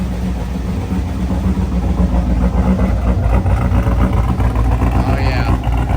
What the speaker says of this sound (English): Engine sound is a little noisy.